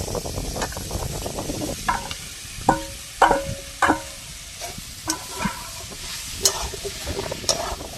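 Boiled potato stirred into a sizzling tomato filling in a pan, irregular scraping and knocking spoon strokes over a steady frying hiss, close and with no talk.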